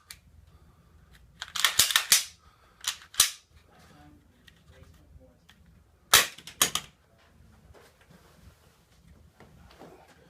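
A Glock pistol is dropped in a drop safety test, giving several sharp metallic clacks and impacts in short clusters, loud and close against a quiet background.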